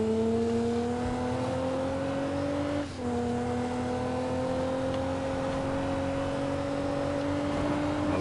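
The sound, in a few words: BMW car engine in Need For Speed video game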